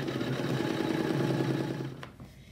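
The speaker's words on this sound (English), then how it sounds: "I'm gonna let this embroider and I'll be back to show you how it looks when it's done" An embroidery machine stitches a design for a fabric tray, giving a steady close mechanical whir that runs evenly and then fades and drops away near the end.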